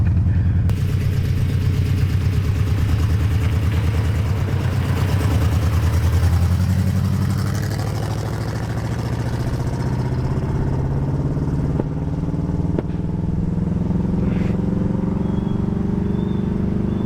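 An old V8 engine in a Buick LeSabre, left unused for 34 years, idles steadily with a low, continuous rumble close by. The note dips and shifts slightly midway, and no voices can be heard.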